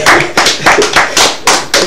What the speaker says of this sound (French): Applaudissez encore pour la fille